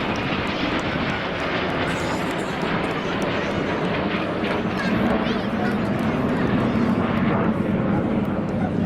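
Red Arrows jets fly past at the 2015 Blackpool airshow, a broad, rushing engine roar that holds steady and swells slightly toward the end, heard under a crowd's chatter and talk nearby.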